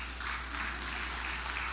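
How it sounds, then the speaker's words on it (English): Members of a church congregation clap together during a Sunday service, a steady, fairly faint wash of applause lasting under two seconds with no voices over it. "Mary Hill's clapping."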